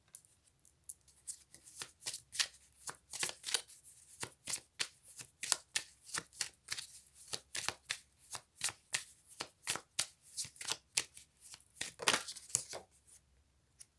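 A deck of tarot or oracle cards gets shuffled by hand, a long run of quick, crisp riffling flicks and slides in uneven bursts, close and fairly quiet, with no talking.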